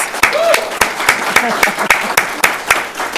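Audience applause for high school students at a school district citation ceremony, loud continuous clapping with strong distinct claps in a rough rhythm and some murmured voices beneath.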